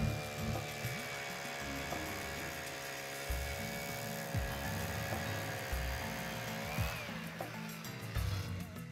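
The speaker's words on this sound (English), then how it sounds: "We drill all our own holes because I don't want to be in used water anyway." A powered auger bores fishing holes through lake ice, a steady droning whine with harmonic tones that bends in pitch near the end, accompanied by low thumps and rumbles close by.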